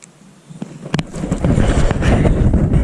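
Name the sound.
wind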